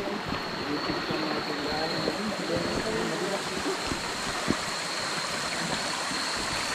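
A creek flows over large rocks in a steady, close rushing wash, with occasional knocks and faint voices underneath.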